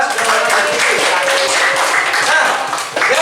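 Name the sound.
applause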